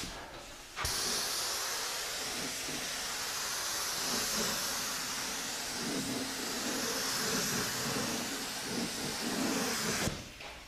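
A small spray gun fed by a pressure pot sprays finish in a long steady hiss that starts abruptly and cuts off near the end, close and loud, with no talk.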